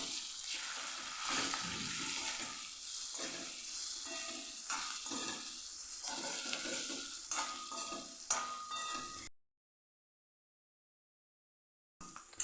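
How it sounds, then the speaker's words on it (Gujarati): Green chillies for Kathiyawadi sambharo fry in a pan and are turned with a spatula, giving repeated scraping stirs over a soft sizzle, close and moderately loud, then a sudden stretch of silence before the end. "હવે આપણે મરચાંને ફેરવી લઈશું"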